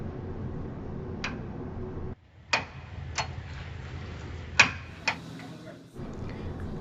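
A torque wrench tightens the lower motor mount bolts on a 2013 Kia Rio 5 with a performance mount, giving several sharp, separate clicks over a low background hum that briefly drops out.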